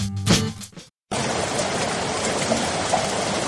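Tsunami waves rushing onto land as a loud, steady roar of surging water, with a brief turbulent burst and a short gap before the continuous wash resumes.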